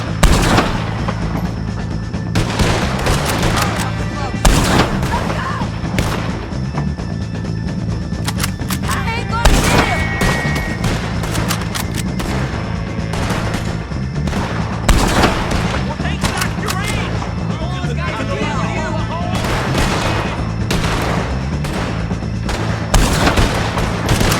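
A dense battle in Red Dead Redemption 2 against O'Driscoll gang members, with loud rapid gunshots and booming blasts crowding one another throughout, sustained and close, with voices shouting now and then underneath.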